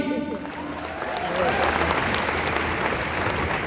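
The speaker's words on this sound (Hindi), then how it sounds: "जोरदार ताली।" Dense, steady applause from an audience at a business meeting in a hall fills the whole stretch, with a voice briefly audible near the start.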